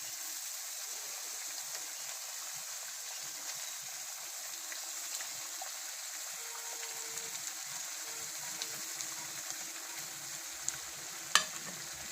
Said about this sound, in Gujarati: હવે આપણે આમાં મરચાં નાખી દઈશું.